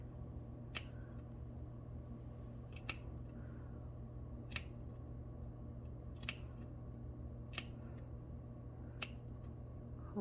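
Scissors snip sewn fabric at the corners of a 3-ring binder cover, six sharp isolated clicks spaced a second or two apart over a steady low background hum.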